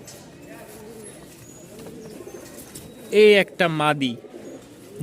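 Background pigeon cooing runs low throughout while someone talks briefly near the end.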